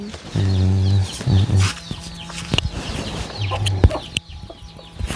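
Chickens clucking close by in a Thai farmyard, a run of loud rhythmic clucks at the start, more bursts later among scattered rustling and small knocks, with no speech.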